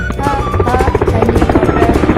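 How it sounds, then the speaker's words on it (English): A helicopter's steady whirring drone runs throughout, loud and close, with a musical tone layered over it. "H is for helicopter."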